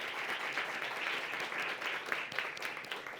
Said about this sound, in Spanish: Aplauso para el panel.